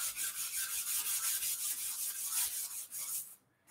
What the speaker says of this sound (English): I've done it without the sanding and it really does make a difference when it's sanded